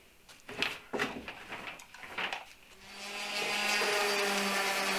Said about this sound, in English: And give the whole top a sand down.